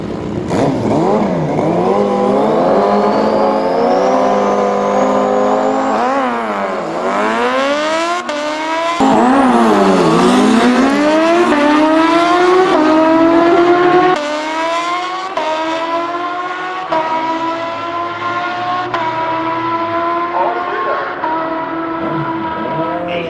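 Superbikes drag racing, a Kawasaki H2 Ninja against a Suzuki Hayabusa, with loud, high-revving engines whose pitch climbs repeatedly through gear shifts as they accelerate past.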